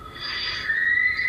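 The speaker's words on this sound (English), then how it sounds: "this terrifying shriek made my hair stand on end" A terrifying high-pitched shriek in an attic rings out as a thin, piercing sustained wail that wavers and slides lower midway, fairly loud with no voices over it.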